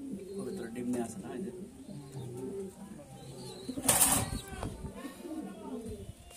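Pigeons in a loft coo in low, rolling bursts amid rustling, with a brief flutter of wings midway, while a person talks over them.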